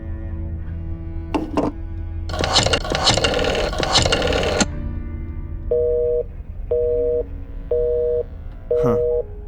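A telephone busy signal inside a point-and-click horror adventure game sounds as four evenly spaced, steady beeps in the second half, preceded by scraping and clattering game sounds; no one talks over it.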